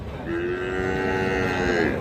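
A heifer calf about three and a half months old gives a single long, drawn-out moo, loud and close, with no other sounds over it.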